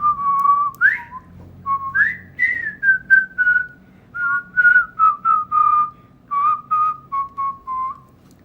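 A person whistles a bouncy tune, a string of clear, rising and falling phrases broken into short, separate notes. It is close and fairly loud, with no talking over it.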